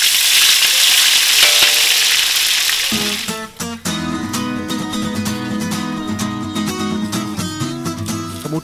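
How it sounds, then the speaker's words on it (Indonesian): Ground spice paste for skipjack tuna floss sizzles hard as it is sautéed, with loud frying hiss up front, then clattering stirring and scraping in a busy, uneven rhythm, close and with no talk. "Selanjutnya, bumbu halus ditumis hingga matang."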